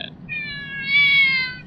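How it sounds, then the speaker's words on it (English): A pet cat meows nearby in a quiet room, giving two clear tonal calls, a short one and then a longer, rising and falling meow, with no voices over it. "my cat is meowing"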